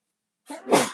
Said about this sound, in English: That is the second time that I've sneezed.